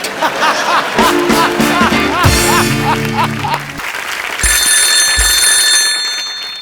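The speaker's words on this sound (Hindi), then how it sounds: "संतोष, अगर माँ का दूध पिया तो फोन उठा" Studio audience noise and clapping at a TV comedy show fill the first half, then a steady, high electronic telephone ring starts and keeps sounding under the background noise.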